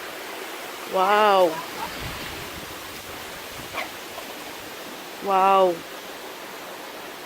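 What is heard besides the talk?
waterfall at a nature center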